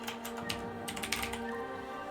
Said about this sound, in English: Let's type in farmhouse.